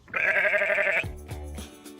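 A sheep gives one loud, sustained bleat lasting about a second, followed by a lower, shorter bleat, heard close and alone on a farm.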